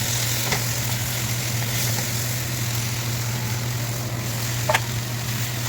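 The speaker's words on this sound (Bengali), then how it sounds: "এই গুঁড়ো মশলা দিয়ে এটাকে ভালো করে কষিয়ে নেব।" Ground cumin, coriander, garam masala, sugar and salt fry in a pan for a soybean dish, giving a steady, close, continuous sizzle over a low hum, with a couple of faint utensil clinks and no talking.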